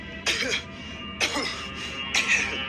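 Three separate bouts of raspy coughing, evenly spaced, heard close up over a steady background hum.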